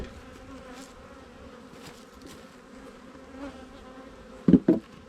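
Honey bees buzz around an open hive box, a steady close-up drone with a few louder buzzes as individual bees pass near the end.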